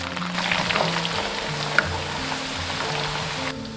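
Whole spices frying in used seafood oil over low heat, giving a steady, dense sizzle and crackle that runs continuously, close up, with no talk.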